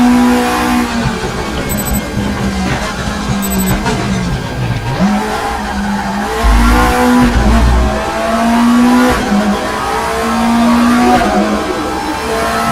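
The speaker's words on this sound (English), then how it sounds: "Bounce off the rev limiter." A race car engine in the RaceRoom racing game, revving high and bouncing off the rev limiter, with a droning tone that rises and falls repeatedly and stays loud and steady throughout.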